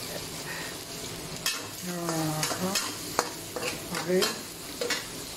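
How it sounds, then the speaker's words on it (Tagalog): Garlic sizzles in melted butter with a little cooking oil in a pan, a steady fry with occasional stirring scrapes, fairly close, while a voice speaks briefly. "Butter saka konting mantika. Yan lalagay natin ang maraming bawang."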